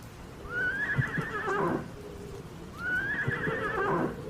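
A horse whinnies twice in a radio drama, each neigh a long, shrill, descending call, with a few soft hoof clops beneath, close and clear.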